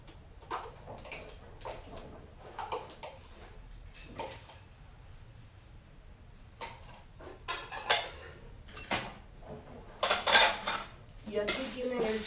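Metal spoon clinking and scraping against a plastic container and bowl while scooping canned cream for a corn salad, a series of light irregular taps growing busier toward the end, close and fairly quiet.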